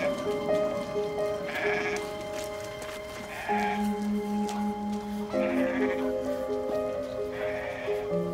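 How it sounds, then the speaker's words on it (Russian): Repeated goat bleats, several wavering calls close by, with steady background noise and occasional voices underneath. "Маш, коза не нужна?"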